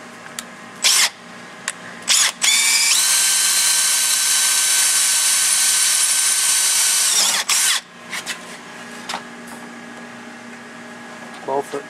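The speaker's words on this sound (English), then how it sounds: "Just drill it through." A power drill bores a hole through a metal bracket on a Ryfab upper door, one sustained run of about five seconds, loud and close, with brief bursts and clicks from the drill before and after.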